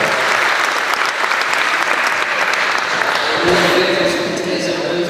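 A festival crowd applauds steadily throughout, dense clapping filling the room, with some voices and cheers mixed in near the end.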